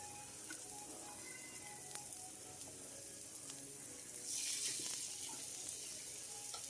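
Cauliflower-crusted chicken with Cajun seasoning sizzles steadily and softly in a pan, a constant faint crackle with a few small clicks and a brief swell of brighter hiss partway through.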